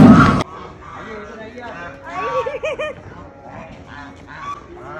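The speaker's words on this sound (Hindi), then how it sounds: "इतनी सारी बत्तख के बीच में एक अलग सी बत्तख।" Ducks quack and honk in a noisy flock at a cow shelter, with overlapping nasal calls. A burst of noise opens the clip, and a voice speaks faintly among the birds.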